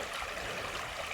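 Creek water flows in a continuous bright hiss and trickle, close and even, with no other sounds over it.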